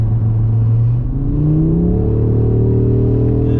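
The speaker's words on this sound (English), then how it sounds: "And that 5-cylinder is such a mighty engine." An Audi RS3 8Y five-cylinder turbo engine revs up loudly from inside the car, its deep rumbling note climbing steadily in pitch as it accelerates, close and dominant with no talking.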